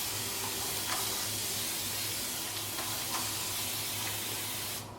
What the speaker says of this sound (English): I'm going to just spray it with a little bit of water.